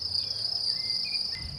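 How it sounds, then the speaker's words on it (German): Crickets chirp outdoors near beehives on the Swabian Alb, a continuous high, shrill trill held steadily and fairly close, with faint low rustling near the end and no talking. "hier sind viele Grillen"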